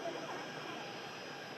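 A Norwegian Boeing 737 Max landing after a flight from Copenhagen, heard as a steady broadband jet roar with a faint high engine whine, distant and even, with a voice talking faintly over it.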